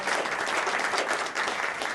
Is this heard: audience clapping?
yes